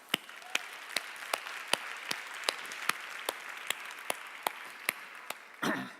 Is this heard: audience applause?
yes